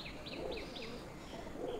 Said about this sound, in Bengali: বন্ধু একটা মাদি পায়রা